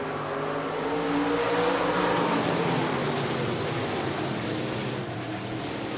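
USRA stock cars race at Rapid Speedway during a heat race, a sustained blur of engine roar from the pack passing at moderate distance, swelling and easing slightly with no announcer heard.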